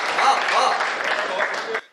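An audience applauds steadily at a comic poetry recital, a dense close clapping wash lasting under two seconds before it cuts off.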